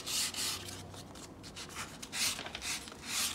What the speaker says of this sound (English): that's how I'm sanding the edges